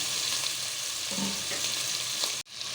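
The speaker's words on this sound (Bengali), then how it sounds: "এখন আমি এইভাবে 1 মিনিট ভাজবো।" Garlic paste, ginger paste, black pepper and salt fry in a pan as the base for a chicken soup, giving a steady close sizzle with a brief stir partway through and a short break near the end.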